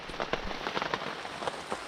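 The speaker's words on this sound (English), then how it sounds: "Rain's coming." Rain falling in the woods around a solo campsite, dense close patter of drops hitting surfaces with scattered sharper taps, steady throughout and no talk.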